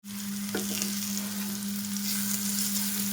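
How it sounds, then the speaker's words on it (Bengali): Vegetables frying in a pan after being drained, a strong continuous sizzle with occasional stirring scrapes over a steady low stove hum, no voices. "খুব ভালো করে সবজিগুলো ভাজে নেব"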